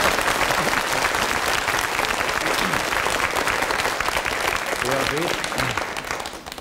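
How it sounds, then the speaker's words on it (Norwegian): A studio audience applauds steadily and loudly at a 1974 Norwegian television variety show with the Kringkastingsorkesteret, the dense clapping running throughout and a few voices briefly rising near the end as it tapers off. "Skal vi klappe for noe?"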